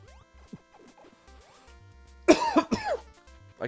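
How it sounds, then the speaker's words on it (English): A man coughs twice in quick succession, fairly close and muffled, after a quiet stretch of faint electronic game tones. "I keep trying to turn my head and cover the mic when I cough."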